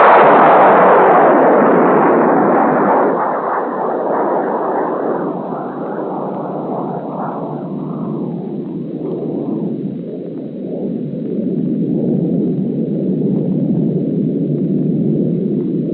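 A Nike Hercules missile launches with a loud roaring blast that gradually recedes into a long, rumbling, band-limited roar over sixteen seconds, heard alone.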